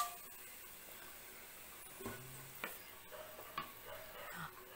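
Whole spices (star anise, stone flower and cardamom) tempering in hot oil, a quiet, faint sizzle with a few sharp crackles and stirring clicks, no voices.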